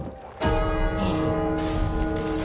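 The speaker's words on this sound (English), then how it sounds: "That was a fucking brutal ass bell." In the video game It Takes Two, a big bell strikes sharply and leaves a rich, sustained ringing tone that hums on loudly to the end.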